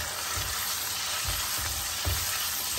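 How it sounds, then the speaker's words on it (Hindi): Chicken pieces hit a pan of sautéed garlic over a medium-high flame, giving a steady, close sizzle with a few soft low thumps from stirring. No one talks. "अब मैं इसमें चिकन ऐड कर दूंगी।"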